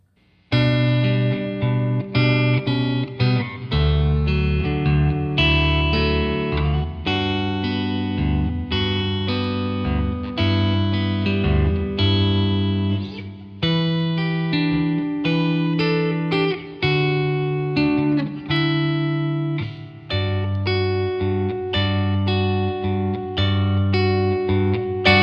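Electric guitar from a refinished Fender Strat plays through a Dr Z Jetta amp with light delay and reverb, sustained chords and single notes ringing out continuously and loudly with a short room-slap echo, no talk.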